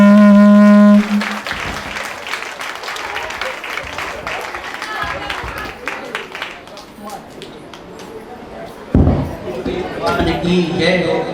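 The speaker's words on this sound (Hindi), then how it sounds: "आप ताली बजा दीजिए ताकि दोबारा ना हो।" An audience claps in a dense, sustained burst of applause at a Hindu religious jayanti festival gathering, while a voice speaks over it, and the clapping swells again near the end.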